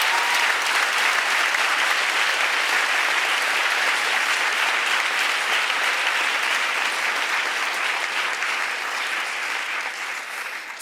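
Sustained applause from an audience at a Ferguson racial justice gathering, dense and steady for about eleven seconds, easing slightly toward the end, with no voices.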